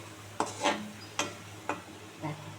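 Ledikeni sweets frying in a pan, heard as a few soft scraping stirs and light utensil knocks over a faint, steady background hiss, close and quiet without speech.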